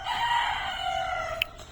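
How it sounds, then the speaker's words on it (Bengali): A rooster crows in a long drawn-out call alongside chickens clucking in a backyard bird enclosure, with a short sharp chirp near the end; no talk. "এদিকে মুরগি আছে।"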